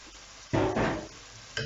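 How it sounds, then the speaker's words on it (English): Corn stir-fried over a high flame, giving a brief surge of sizzling and scraping that swells, then fades into a softer hiss, close up with no voices. "Stir fry this on high flame itself."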